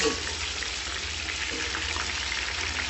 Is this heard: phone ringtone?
no